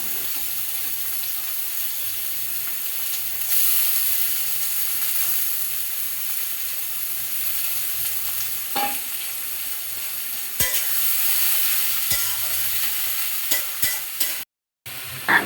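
Chopped garlic, onion and potato frying together in a pan, a continuous close sizzle with repeated stirring scrapes and a brief cut near the end, no talk.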